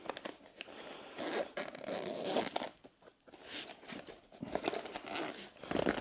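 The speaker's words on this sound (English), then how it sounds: "I'll unzip the bit at the front." The zipper on a 40 W solar panel case is opened in several quick, close, scratchy pulls with short pauses between them, fairly quiet and heard without talk.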